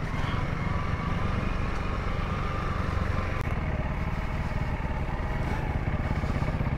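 Dirt bikes, a 2022 Honda CRF300L and a 2023 Kawasaki KLX300, ride a trail with a steady, close engine drone under rushing wind noise, with no clear gear changes.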